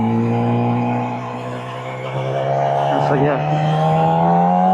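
A Yamaha R6 motorcycle engine hums steadily at cruising speed, with a strong tonal drone under a rider's speech.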